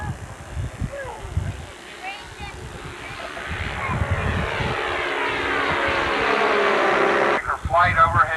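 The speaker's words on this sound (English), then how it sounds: "Flight overhead." A propeller airplane roars overhead during a memorial flyover at a Christmas program at a bomber field, its engine drone swelling loud and steady over crowd noise, with someone speaking over a loudspeaker at the start and end.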